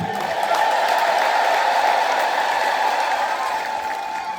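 Church congregation applauding together, a steady, dense wash of clapping from many hands that holds loud and even for several seconds before easing slightly.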